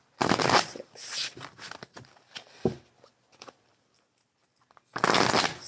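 Tarot cards riffled and shuffled in several quick bursts, close and crisp, with scattered soft taps and handling noises between a longer final shuffle.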